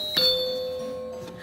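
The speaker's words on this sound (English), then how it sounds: "Is that the doorbell?" A toy doorbell on a Peppa Pig Family Home playset rings with a single bright electronic chime that holds a sustained tone and fades, close and clear with no talking.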